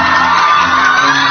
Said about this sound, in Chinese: 我们用最热烈的尖叫声跟掌声